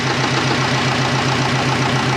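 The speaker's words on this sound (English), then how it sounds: "It's the cooler pump, guys." A steady, loud mechanical hum with a low pulsing drone from a cooler pump running continuously inside a twin-turbo Subaru, with no speech.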